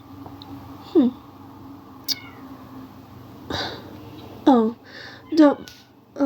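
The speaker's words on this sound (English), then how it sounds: "Don't mind that, dear. That is just my cat, Lavinia." A cat meows several times in short, downward-bending cries, close and fairly loud, with a brief sharp sound between them.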